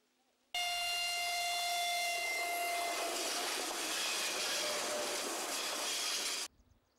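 A commuter electric train roars past at close range, a steady loud rush of wheels and air lasting several seconds, with a horn-like tone at the start that fades before the noise cuts off abruptly.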